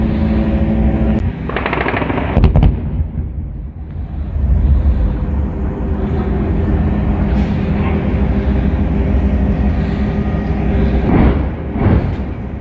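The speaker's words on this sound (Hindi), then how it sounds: "टैंक्स, हेलीकॉप्टर, गन फायर और धमाकों की आवाज़ इजिप्ट की तरफ से सुनी गई" Rapid bursts of machine gun fire crackle over a constant low rumble, with heavier blasts and distant booms scattered through, amid tanks and helicopters at Rafah on the Egypt border; loud and chaotic.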